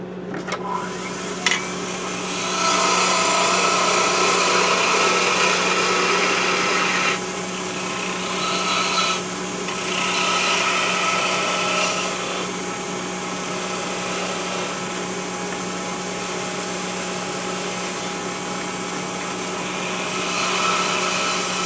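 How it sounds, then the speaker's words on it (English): A wood lathe turns a peppermill blank, its steady motor whine and hum running throughout, with the gritty scraping of a cutting tool rising and falling as it works the spinning wood. "when you're cutting with the lathe, your tool is cutting right here"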